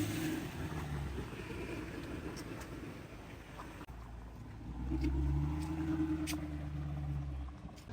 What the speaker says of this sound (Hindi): अब अपनी गाड़ी लेके निकलते हैं गाँव।